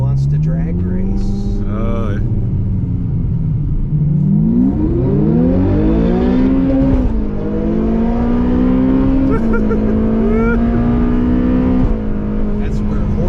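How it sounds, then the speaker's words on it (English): Cars rev loudly at a drag race line-up, engine pitch climbing and falling through several throttle blips and a rising acceleration, close and dominant with some talk over it. "I think he wants to drag race."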